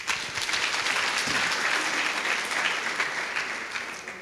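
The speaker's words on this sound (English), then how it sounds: "let's give him a round of applause" An audience at a work readiness workshop applauds. The clapping is steady and fairly full for about four seconds and carries no speech.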